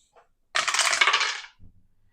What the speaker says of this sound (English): He rolls 2 dice.